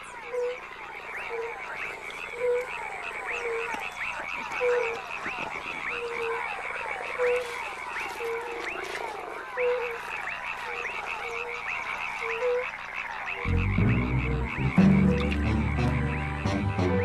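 Flying frogs croak in a steady, repeating chorus of short pulsed calls over a dense wash of night insects and frogs, ending with a louder rumbling swell.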